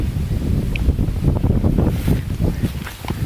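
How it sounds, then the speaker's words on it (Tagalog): Strong gusty wind buffets the microphone, a loud continuous low rumble with roaring swells. "Rinig nyo ba yung hangin?"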